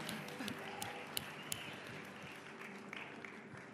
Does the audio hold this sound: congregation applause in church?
yes